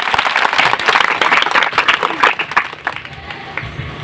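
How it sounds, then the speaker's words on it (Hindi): Loud applause from a crowd at a church healing meeting in Bihar, many hands clapping in a dense burst that thins and fades toward the end, with faint voices mixed in. "ताली बजाइए तो परमेश्वर के लिए।"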